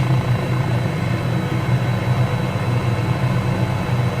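Steady, close whine and drone of an MD500E helicopter's turbine and rotor in flight over scenic terrain in Microsoft Flight Simulator, continuous with no talking.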